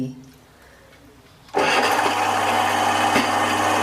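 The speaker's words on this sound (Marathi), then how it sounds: "आता तुम्हाला गिरणीचा आवाज आलाच असं आता मी गिरणी चालू केली" After a quiet moment, a household flour mill abruptly starts up and settles into a loud, steady grinding whir that continues to the end.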